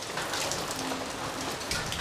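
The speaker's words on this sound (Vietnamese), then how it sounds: "Trời Bình Dương hôm nay âm u và có mưa nhé quý vị." Steady rain falling on an overcast day in Binh Duong, Vietnam, a dense even hiss of drops spread across the whole clip, with no voices.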